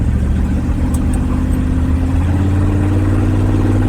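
A 1955 Chevy big block V8 accelerating on a busy road: a loud, close, continuous rumbling roar with steady low drone and rising engine pitch, filling the whole stretch without pause.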